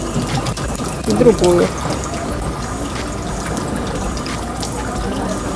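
Water is scooped and poured at a Shinto shrine purification basin in Tokyo, a short splash and trickle heard amid soft outdoor ambience while people talk nearby.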